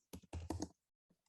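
A few quick keystrokes on a computer keyboard while typing a command into the Vim text editor, crisp and close in a quiet room, followed by a faint final tap.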